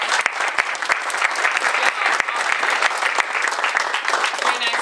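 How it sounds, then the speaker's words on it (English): An audience at a Kiwanis club meeting applauds speakers from a 4-H public speaking contest, dense continuous clapping with a few sharp, distinct claps standing out near the listener. "Let's give them one more round of applause."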